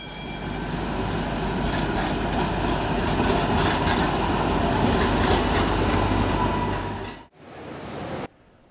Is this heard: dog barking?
no